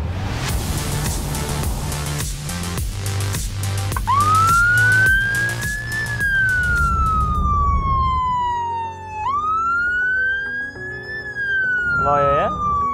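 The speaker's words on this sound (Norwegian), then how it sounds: "Hvis du ser i speilen din nå, så får vi noe utrykning bak oss her." A loud emergency vehicle siren, heard from a car on the road, wails with rising and falling sweeps, starting over a busy rhythmic music-like background that drops away, leaving the siren dominant.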